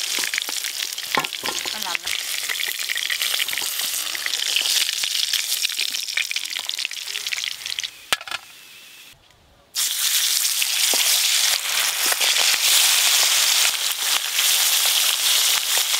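Large pieces of freshly cut aar fish sizzle loudly in hot oil in a pan, a dense continuous frying crackle that drops out briefly for a couple of seconds before resuming just as strongly.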